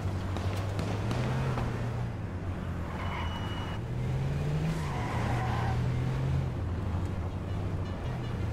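Car driving and skidding in the battle royale video game H1Z1, a steady engine drone with pitch swells as it accelerates, plus tire skids and wind rush, fairly loud and with no talking.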